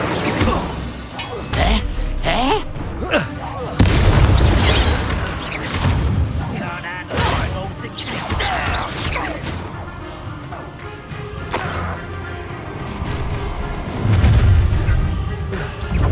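Incendio fire spells blasting in Hogwarts Legacy amid game combat, loud bursts, crashes and whooshes one after another, with voices shouting over the fight.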